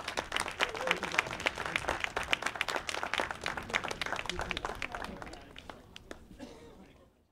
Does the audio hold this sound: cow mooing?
no